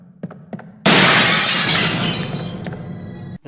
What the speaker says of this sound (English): there was the liquor crashing through the window